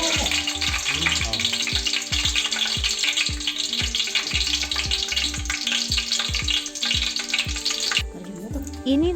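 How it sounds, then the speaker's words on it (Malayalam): Dried red chillies and curry leaves crackling in hot oil, a busy close sizzle with rhythmic knocks of a spoon stirring the pan, continuing steadily before a slight change near the end. "കറിവേപ്പില ഇട്ട് ഒന്ന് വഴറ്റിയെടുക്കുക."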